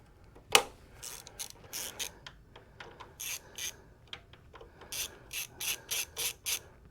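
A hand ratchet backs out a brake line bracket bolt on a motorcycle, a sharp click followed by a series of quick clicking bursts in an uneven rhythm, close and fairly quiet.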